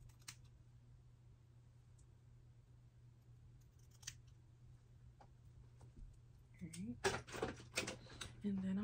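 Scissors snip through wig hair, with a burst of crisp, close cuts in quick succession toward the end after a quiet stretch with a steady low hum and scattered faint clicks.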